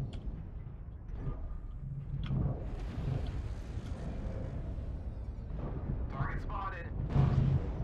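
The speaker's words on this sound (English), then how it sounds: "Artillery strike activated" Heavy artillery strike explosions in a video game, a series of deep rumbling blasts with crackling debris that rolls on steadily across the clip, with game voice callouts over the top.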